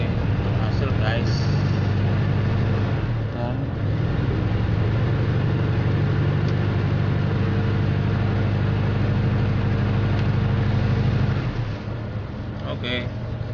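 A car engine started after topping up the battery water, idling steadily and loud throughout, with a low droning hum that tapers off near the end.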